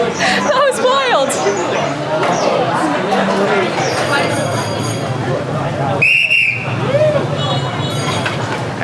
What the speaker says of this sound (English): There's this guy behind us just like whistling.